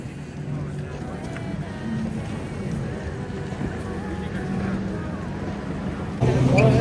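A boat ride on the water in Hunza carries a steady low engine drone and wind rush throughout, rising suddenly louder in the final second.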